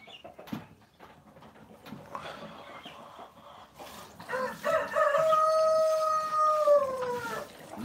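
Quiet rustling at first, then a loud, drawn-out chicken call rises and holds for a few seconds nearby, during milking.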